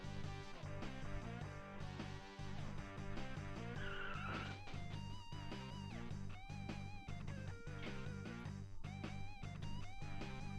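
Race cars in the Rock N' Roll Racing video game whine and skid over a looping rock music soundtrack, with tire squeals rising and falling throughout at a fairly low level.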